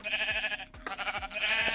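A Minecraft sheep in a mine gives repeated wavering bleats, several in quick succession, clear and fairly close over a faint background.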